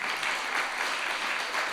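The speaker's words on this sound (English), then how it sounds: "Somebody clap like you're getting motivated." An audience at a motivational seminar claps in a brief, steady burst of many hands, a soft even patter heard from a slight distance with no voices over it.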